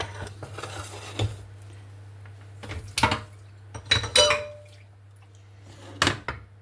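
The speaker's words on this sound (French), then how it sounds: "Je vais mettre l'omelette dans l'assiette." Dishes and cutlery clink as an omelette goes onto a plate, several separate sharp taps and scrapes spread across a quiet kitchen.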